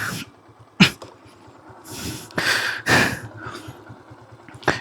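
A motorcycle wheel spinning stuck in deep mud, the engine idling in a low steady putter with a few revving surges and sharp bursts, close by.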